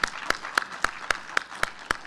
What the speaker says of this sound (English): We applaud you for that.